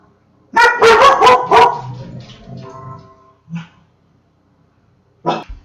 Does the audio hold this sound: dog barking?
yes